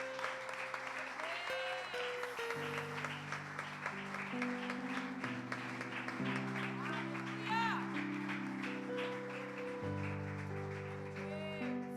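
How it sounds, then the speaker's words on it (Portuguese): Congregation applauding during a communion service at church, steady broadband clapping throughout with sustained organ or keyboard chords and singing voices over it. "Vamos aplaudir o nome do Senhor Jesus."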